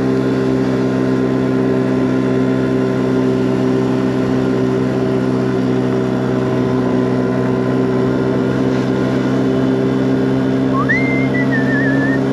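Moped engine droning steadily at night as the rider sets off, a loud continuous hum with a brief whistle-like pitch rise near the end.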